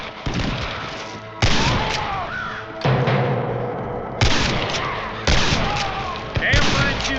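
Gunfire cracks out in Red Dead Redemption during a shootout at Pike's Basin, about five loud, sharp shots spaced a second or so apart, each trailing off in echoing rumble, with voices faintly mixed in.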